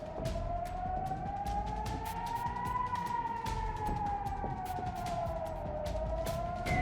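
An air raid siren in Ukraine wails steadily, its tone slowly rising and falling, heard at a distance and fairly faint over background noise.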